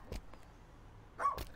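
A pet dachshund in a life simulation game lets out a couple of short, light barks, a faint one early and a clearer pair near the end, separated by a quiet stretch.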